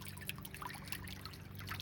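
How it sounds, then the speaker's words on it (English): Water runs and trickles nearby in a backyard pool setting, a faint, continuous bubbling dribble with scattered drips and no voices. "I love the sound of water running."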